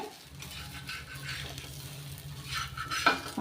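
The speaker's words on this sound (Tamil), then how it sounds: "மீடியம் ஃப்ளேமில் வச்சு பொரிச்சு எடுத்துக்கோங்க" Ragi adai fries in sesame oil on a medium flame, a soft steady sizzle with a few faint scrapes and a light metallic clink near the end.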